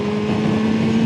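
A hooligan-style motorcycle's engine holds a steady, loud, close drone with a constant tonal hum, wind rushing over it as it runs along at a fairly even pace.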